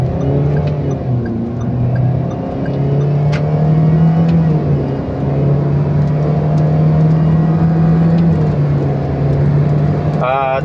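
Proton Alza held on the brake with full throttle for a launch-control start, its engine revving steadily at about 2,000 rpm, a loud sustained drone with slight rises and dips under a talking voice.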